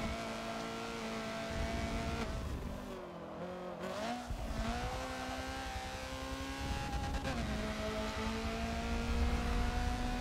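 A Honda CRX racing engine in Forza drones steadily on the Suzuka West track. Its pitch climbs, then drops sharply at a gear change before rising again, with the tone held close and continuous and a second shift near the end.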